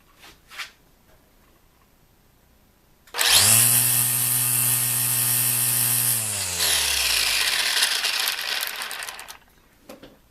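A Makita LXT lithium-ion cordless string trimmer spins up sharply, holds a fairly quiet, steady whine at about 6,500 RPM for several seconds, then winds down gradually as the trigger is released.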